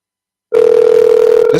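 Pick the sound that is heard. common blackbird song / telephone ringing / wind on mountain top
telephone ringing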